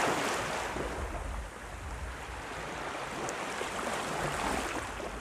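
Steady ocean surf washing in with continuous broadband rush and low rumble, slight swells in intensity, no voices, moderately loud and close.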